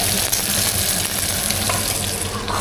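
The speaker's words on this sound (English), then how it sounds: "Look what we got sizzling in the pan" Bacon sizzling loudly in a frying pan, a dense, continuous crackling hiss close up that holds at a constant level throughout.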